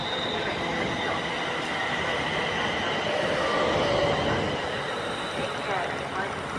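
An eight-carriage Avanti hired-in train pulls away from a station platform on the Wolverton and Northampton route: a steady, loud rolling rumble with faint wheel squeal, while a voice talks over it.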